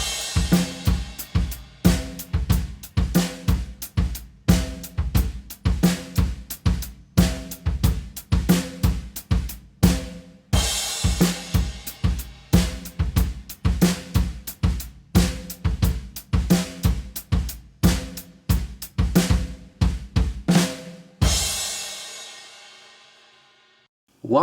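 A drum kit plays a bass drum pattern grouped in threes, a steady run of punchy kick-and-drum hits in a repeating rhythm, close and loud, ending with a ringing crash that fades out.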